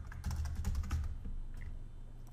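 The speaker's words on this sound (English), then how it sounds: "Put the password in here to authenticate. Type it in really hard." Password being typed on a computer keyboard while setting up Jenkins on Ubuntu, a short burst of close, firm key clicks that tapers off, no talking.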